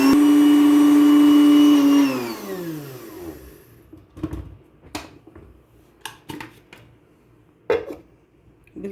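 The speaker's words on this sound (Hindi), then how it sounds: "थोड़ी सी एक दफ़ा और ग्राइंडर को चलाएंगे," An electric kitchen grinder whirs loudly while grinding soaked lentils, then winds down over a couple of seconds, followed by scattered clinks and knocks of the jar being handled.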